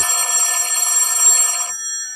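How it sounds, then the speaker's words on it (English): An old-fashioned telephone bell rings loudly and continuously in a bright metallic trill within a vintage suspense radio drama, then cuts off abruptly near the end. "Just when things start getting dull, the phone rings"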